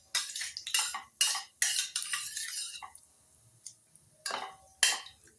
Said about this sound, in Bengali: 5 ফোড়ন দিয়ে একটু নাড়াচাড়া করব।